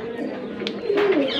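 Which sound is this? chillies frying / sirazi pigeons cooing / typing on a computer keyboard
sirazi pigeons cooing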